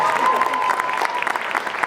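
An audience at a sixth grade holiday school band concert claps for the trombone section, a close, dense patter of many hands continuing steadily throughout.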